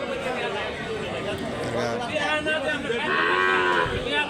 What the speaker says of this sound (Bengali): এই যে দেখেন গরুটা